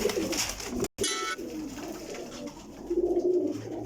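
A white pigeon and other breeder's birds coo softly in a loft, with a brief coo early and a longer, faint run of low burbling coos later, partly masked by steady background noise.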